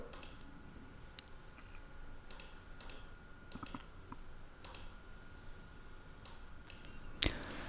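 A password is typed on a computer keyboard while logging on to a Windows 2012 server. A few faint, scattered key clicks come close to the microphone in a quiet room, ending with one sharper tap.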